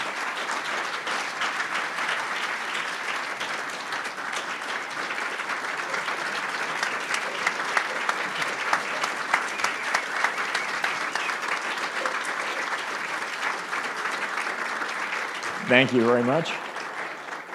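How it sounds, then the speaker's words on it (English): Sustained audience applause fills a conference hall at the 2017 Bogleheads Conference before a Q&A. It holds steady and loud for the whole stretch, then fades as a voice speaks near the end. "That's probably quite enough applause."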